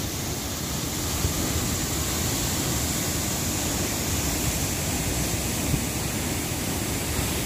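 A mountain waterfall at Ajanta gives a steady, loud roar of rushing water that holds at an even level throughout, with no voices.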